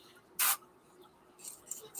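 A single short, sharp burst from a spray can of paint on a holographic fishing lure, followed by quieter faint hissy puffs and light rustling near the end.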